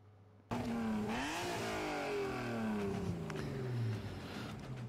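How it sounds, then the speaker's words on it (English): An electric car in Gran Turismo 7 accelerates with a synthetic whine that enters abruptly, climbs in pitch, then glides smoothly downward in layered tones, loud and alone with no talk. "electric cars making a sound"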